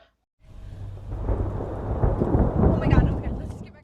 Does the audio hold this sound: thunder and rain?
yes